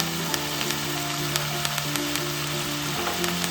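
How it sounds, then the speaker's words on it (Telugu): Onion, tamarind and green chilies frying in a hot pan while being stirred: a steady, dense sizzle with faint stirring clicks throughout, close and continuous. "2 పచ్చిమిర్చి వేసుకొని మంచిగా కలపాలండి."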